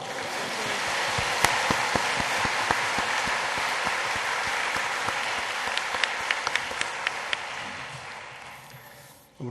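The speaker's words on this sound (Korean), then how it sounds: "박수로 영광을 돌리겠습니다" Church congregation applauding at a Christmas service, a long loud wash of many hands with sharp individual claps poking through, sustained for several seconds before cutting off abruptly.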